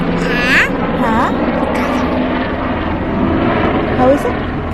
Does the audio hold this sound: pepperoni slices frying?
no